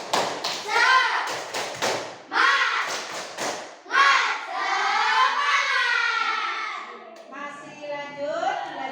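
Children in a classroom perform a rhythmic spirit clapping chant, shouting short sung phrases in a bouncy beat with sharp hand claps between them, loud and close.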